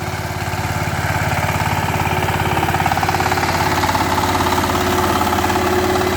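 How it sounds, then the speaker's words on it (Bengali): Saiping 28-blade farm tractor engine idling close by, a steady rhythmic diesel chug with mechanical knocking that holds even and loud throughout, with no talk. "ইঞ্জিনের চাউন্ডটা দেখেন কত ভালো"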